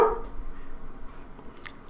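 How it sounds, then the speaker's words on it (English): A dog barks in the background indoors, a brief yelp at the start and another short bark at the end, faint and somewhat distant. "He's just barking at like a pigeon or something."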